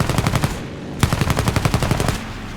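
Rapid bursts of aircraft machine gun fire in the combat flight game War Thunder, two sustained volleys of fast, even rattling shots separated by a brief gap, loud and close with engine drone beneath.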